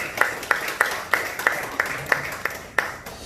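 A few people clapping in slow, evenly spaced single claps, about ten distinct claps, moderately close, at a national prayer breakfast gathering in honor of a church elder.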